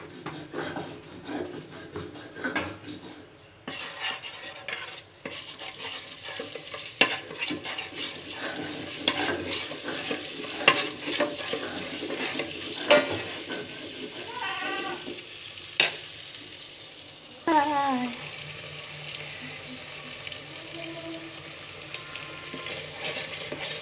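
Chicken cooking in a mix of mustard and soybean oil, stirred in a pan for a curry, gives a steady sizzle and fry with scraping stirs and occasional utensil knocks, close and continuous throughout.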